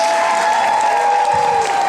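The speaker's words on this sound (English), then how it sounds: "let's have a big hand of applause for PlayOnCon I" Applause from a convention crowd at PlayOnCon rolls on steadily and fairly loud, a dense clapping wash with a sustained tonal cheer or whistle running through it.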